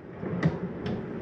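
A slide-out pantry drawer in a 2022 Crossroads Redwood 4150RD fifth-wheel RV glides open with two soft, quick knocks over a low background hum, close by and without talk.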